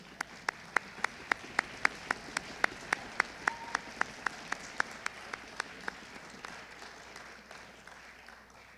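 A small audience claps for orchestra students: about twenty sharp, evenly spaced claps ring out in a slow rhythm in a large room, then give way to quiet background noise for the last few seconds.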